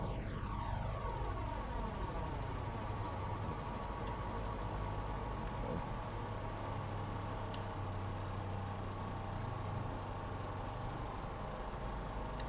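Propeller aircraft engines run steadily in Microsoft Flight Simulator, a loud constant drone with a slowly shifting whine that settles into an even hum near landing.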